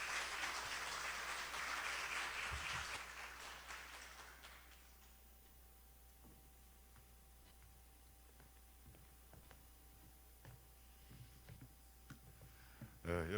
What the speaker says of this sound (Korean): 교수님을 뜨거운 박수로 맞이하여 주시기 바랍니다